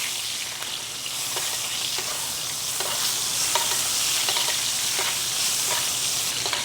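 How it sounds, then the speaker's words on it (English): A steak sizzles steadily in a pan with smashed garlic cloves and thyme sprigs while being basted, a dense close hiss with soft spoon scrapes and spatters, holding even and loud throughout. "and then we're just going to start basting it."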